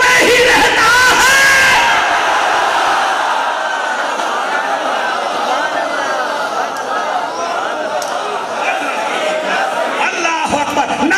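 A large crowd at a Milad-un-Nabi religious gathering raises loud, sustained collective shouts of slogans, voices yelling and whooping together without pause, filling the space densely and close throughout.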